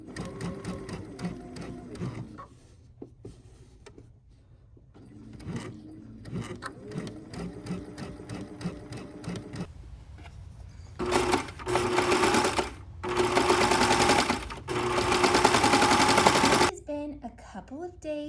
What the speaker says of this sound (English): I'm also going to serge this edge and then stitch it down towards the inside